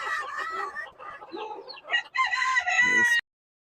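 Chickens cluck and a rooster crows loudly and close inside a barn, the crow rising into a long sustained call near the end before the sound cuts off abruptly.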